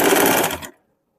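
Sewing machine stitching a blouse seam, running in one short, close burst that stops abruptly into silence.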